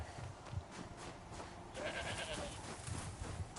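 A goat bleats in Horizon Zero Dawn, a faint wavering call midway through, over a steady wash of outdoor game ambience with soft thuds.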